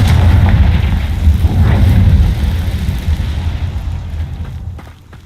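A Confringo spell explodes in Hogwarts Legacy with a loud, deep booming rumble that rolls on and gradually fades away, with no talking.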